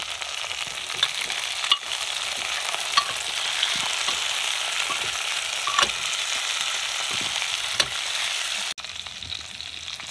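Asparagus stir-fried with potato and onion in a pan, a loud steady sizzle close up with intermittent scrapes and taps of a stirring spoon, no voices.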